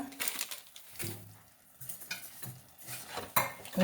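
Milk added to semolina and carrot in a cooking pan, followed by a utensil scraping and stirring with soft clinks and a light sizzle, close up, irregular strokes with a sharp clink near the end.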